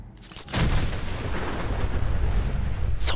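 An explosion in Fallout 4 bursts in abruptly and becomes a loud, sustained roaring rumble that lasts a few seconds, heard alone without talk.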